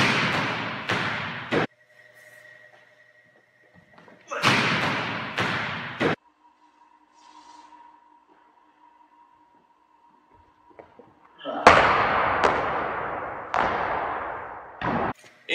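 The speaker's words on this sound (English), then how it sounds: "So this is what my jump serve looks like." Volleyball jump serves: a hard hand strike on the ball followed by heavy bouncing thuds, in three separate bursts with quiet gaps between, in a reverberant gym.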